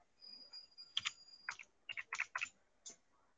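Words are typed into a hospital software search field on a computer keyboard, producing irregular bursts of crisp key clicks with short pauses between them, near and alone.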